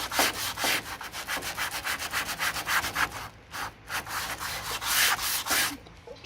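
Hand sanding of a welded patch on the door sill of a Mk2 Ford Escort, a steady rhythmic scrubbing with quick back-and-forth strokes, close and fairly quiet, with no talking.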